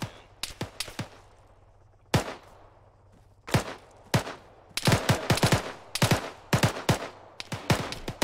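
Sharp rifle and machine-gun shots crack in a special forces firefight in ArmA 3. Single shots and short bursts come irregularly, with brief gaps early on and a denser cluster of rapid shots later.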